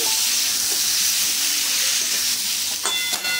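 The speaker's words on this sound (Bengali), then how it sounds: "ভালো করে কষিয়ে নেব।" Fried papaya and potato are sautéed in a pan for a vegetarian papaya curry with mung dal, giving a steady close sizzle and hiss with faint stirring scrapes and no speech.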